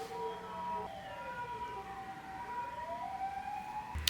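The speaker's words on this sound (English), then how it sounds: "Maybe we should wait for the ambulance to pass by." A wailing ambulance siren sweeping up and down, fairly distant and fading as it passes, with faint traffic rumble underneath.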